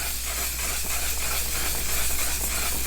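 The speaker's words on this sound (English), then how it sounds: "I'm going to set with my One Size setting spray." A setting spray misted onto a face, a loud, continuous airy hiss held steady at close range over a low hum, with no talking.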